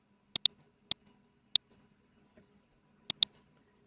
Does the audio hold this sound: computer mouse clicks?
yes